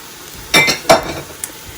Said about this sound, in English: 1 can, 15 ounces of a 3-bean blend. This is dark kidney beans, pinto beans, and black beans, okay? And they go in.